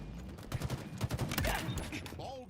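Rapid bursts of gunfire from the video game Halo Infinite crackle in a quick volley, fairly faint, with a voice talking over the shots.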